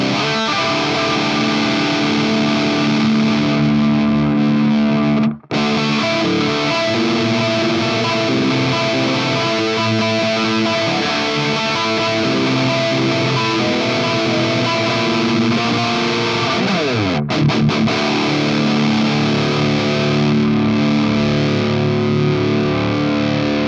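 8-string guitar played through a KHDK Dark Blood distortion pedal, heavy saturated chugging riffs and sustained chords, loud and continuous with a brief stop near the middle, no talking.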